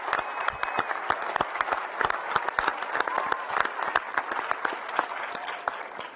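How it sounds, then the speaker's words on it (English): An audience applauds panelists at a NASA and Axiom Space event revealing the Artemis III Moon mission spacesuit prototype, with a mid-sized crowd clapping in sharp, closely spaced claps that hold steady throughout. "Let's do another round of applause for everyone."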